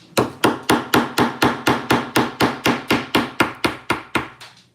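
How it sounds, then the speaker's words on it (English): A hammer strikes a chisel against rock in a fast, even series of about fourteen loud, sharp metallic blows, close up and alone with no talk. "we broke a part of the rock off"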